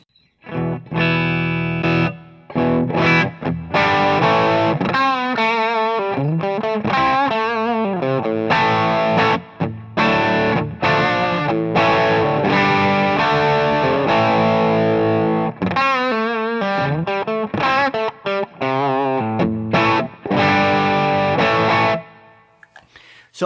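Electric guitar played through a Tube Screamer overdrive pedal into an amp with its bright control raised, giving a loud, steady run of distorted chords and riffs with brief gaps, played alone without talk.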